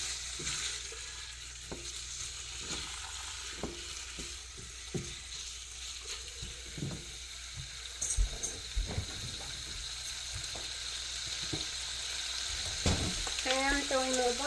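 A roast frying in butter on a griddle, with a low continuous sizzle broken by sharp clicks and scrapes of utensils, then louder spattering near the end.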